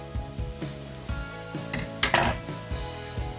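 Small portions of batter fry in oil over medium heat, a steady crackling sizzle broken by repeated metal clinks of a utensil against the pan, close and without talk.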